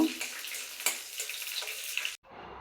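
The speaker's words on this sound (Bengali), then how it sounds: "মরিচটা আমি লাল লাল করে ভেজে নিব।" Red chillies fry in a pan for a Bengali dried-fish mash, a busy close crackle and hiss with spatters and a stir or two, then the sizzle cuts off abruptly near the end, leaving near silence.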